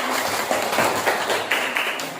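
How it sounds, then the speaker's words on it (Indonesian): Schoolchildren in a classroom applaud classmates after their presentation, a steady dense patter of many hands clapping together, close and moderately loud for about two seconds. "Tepuk tangan untuk teman kalian."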